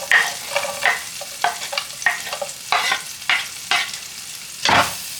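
Small onions fry in a pan ahead of courgettes, a crackling sizzle broken by repeated stirring and scraping strokes, close and fairly loud, no talk.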